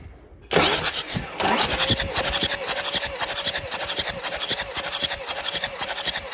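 A 24-volt starter cranks a D-260 diesel engine. After a brief quiet start it sets in with a loud, steady, rhythmic grinding churn that keeps going, close and unbroken.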